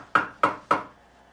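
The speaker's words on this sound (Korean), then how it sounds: "밖에서 문을 두드리는 소리가 들린다." Three evenly spaced knocks on a wooden door, each sharp, solid and hollow, with a short decay, sounding from the other side of the door.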